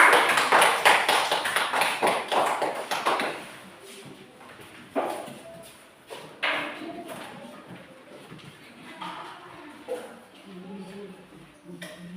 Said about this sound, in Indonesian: Kita tepuk tangan untuk kelompok 5